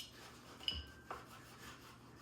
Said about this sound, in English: Why are you sawing on your pizza?